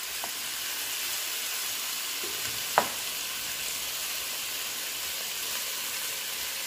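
Potatoes sizzling in butter in a frying pan, seasoned with salt and pepper, a steady broad frying hiss with a couple of brief clicks of a utensil midway, no talking.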